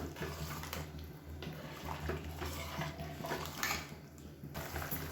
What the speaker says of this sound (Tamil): இப்போ தண்ணியை சேர்த்துட்டு கொஞ்சம் கொதிக்க விட்டுக்கலாம்.